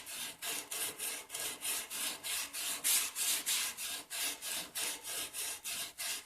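A sanding block rubs back and forth along a cigar box guitar neck by hand, making about seventeen even, rhythmic rasping strokes, close and fairly quiet, with no talking.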